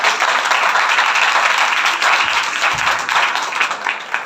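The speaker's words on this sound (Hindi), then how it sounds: "जोरदार ताली बजाइए।" A congregation at a church sermon gives loud, sustained applause, dense clapping that stays full and even from start to finish, with faint voices mixed in.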